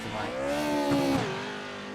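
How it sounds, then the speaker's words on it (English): Pro 2 Lites off-road race truck engine at Crandon International Raceway, revving high and steady as it clears a jump, then the pitch drops on landing, heard from a distance. "As you heard that rev up as he went over that jump there."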